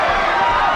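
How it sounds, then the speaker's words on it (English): Spectators at a 2000 taekwondo match give a low, continuous crowd murmur, a short steady swell of many voices reacting to the action in the hall. "Crowd reacting a little bit to some of the shots"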